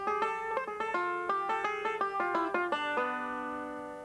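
A complete five-string banjo phrase: a quick run of many plucked, ringing notes in brisk rhythm, ending on a held note that rings and fades, played close with no talking.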